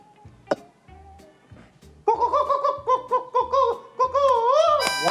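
A voice imitates a rooster crow at a talent show: a wavering, drawn-out call with rising and falling pitch, loud and close, following a quieter stretch of soft sounds.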